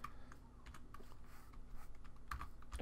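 Fingers typing on a computer keyboard, quiet rapid key clicks in an uneven stream with a few sharper taps, no voice.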